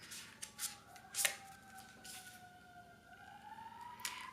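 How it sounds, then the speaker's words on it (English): Emergency vehicle siren wailing faintly in the distance, a slow rising and falling tone held in the background beneath sharp, crisp clicks and rustles of tarot cards being shuffled nearby. "Excuse the sirens in the back."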